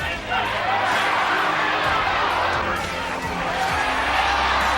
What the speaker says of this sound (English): now the crowd is yelling for Larry Holmes